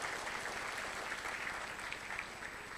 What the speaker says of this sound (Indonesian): Boleh tepuk tangan dong buat produk Atomi.